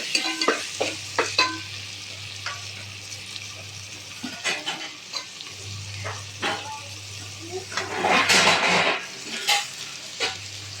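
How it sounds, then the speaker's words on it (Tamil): Carrots and beans being stirred into vegetables in a pan for vegetable biryani: repeated clinks and scrapes of a spoon against metal over a low sizzle, close up, with a louder burst of frying near the end. "பீன்ஸு இது கூட சேர்த்துக்கிறலாம். சேர்த்து இதை நல்லா கிளறி விட்டுறலாம்."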